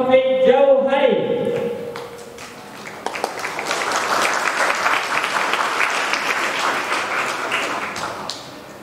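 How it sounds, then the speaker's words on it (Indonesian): Dense, steady audience applause fills a hall during an Indonesian religious gathering as a preacher is welcomed. It follows a brief spoken introduction and continues loudly to the end. "Oke, sekali lagi tepuk tangan untuk beliau."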